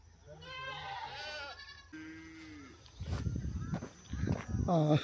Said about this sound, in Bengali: সন্ধ্যা হয়ে গেছে ছাগলের চিল্লা হচ্ছে চিৎকার মেঝে শুরু হয়ে গেছে